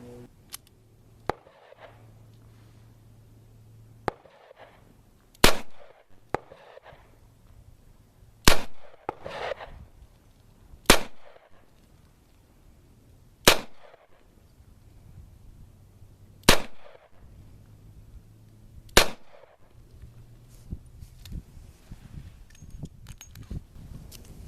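Smith & Wesson Model 15 Combat Masterpiece revolver fired double action at a 10-yard range, about eight sharp, loud cracks at irregular intervals a few seconds apart, with faint handling clicks between shots.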